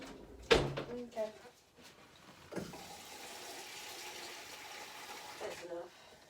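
Water runs and splashes while a green plastic bowl, once used for a snake's hide or moss box, is rinsed out in a sink, a steady close wash under brief bumps at the start and end.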